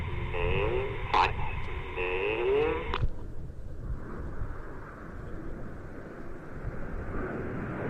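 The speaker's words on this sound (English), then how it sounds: "You heard in that transmission the radio commands from Red 1's jet to the rest of the team." Radio commands from the lead jet of the Red Arrows aerobatic team at an airshow, a brief crackly transmission that cuts off after about three seconds into a broad roar of jet noise.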